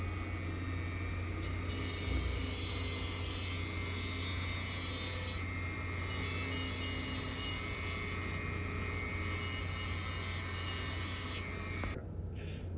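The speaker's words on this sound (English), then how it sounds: "I'll do the little Dremel around there too." A small Dremel rotary tool scoring around metal cable armor, a steady, close grinding whine with a gritty rasp that runs unbroken for about twelve seconds, then cuts off abruptly near the end.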